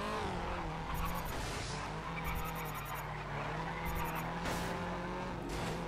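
A race car drifts in the racing video game GRID. Its engine revs rise and fall while the tyres screech and skid in repeated bursts, loud and close, over a constant engine whine.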